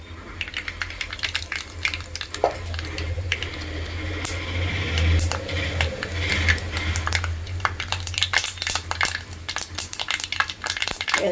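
Mustard seeds sputtering in hot coconut oil in a pan, a dense run of sharp pops and crackles that keeps going over a low steady hiss, near and fairly loud, with no talking.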